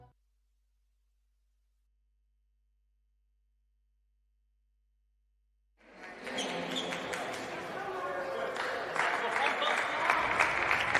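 Crowd applauding at a Major League Table Tennis match, Crocs versus Paddlers: near silence, then a sudden swell of clapping and cheering that holds steady and grows slightly louder, with an announcer's voice over it.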